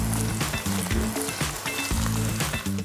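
Eggplant pieces sizzle and crackle in hot oil in a pot for Georgian ajapsandali, a loud, close, continuous fry with rhythmic stirring clatter over it and no speech.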